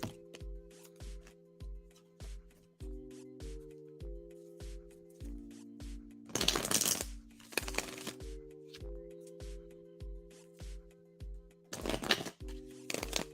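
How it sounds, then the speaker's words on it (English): Tarot cards shuffled by hand in three short, crisp riffling bursts, over steady rhythmic background music that plays throughout. "let's shuffle for number 2 here"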